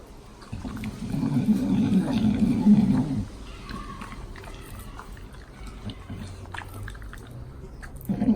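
A dog gnaws and chews on a chew outdoors, with wet, crunching mouth sounds that are loudest at first and then continue more quietly.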